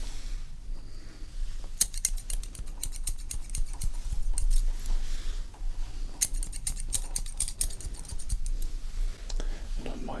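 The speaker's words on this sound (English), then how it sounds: "scissors just to create a little bit of a layer in the bottom there" Scissors snip through hair during a close-up ASMR haircut, in quick crisp bursts of clicks and cuts separated by quieter rustling pauses.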